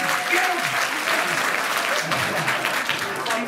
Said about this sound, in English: Who's vaccinated? Round of applause.